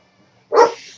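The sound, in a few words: dogs barking while playing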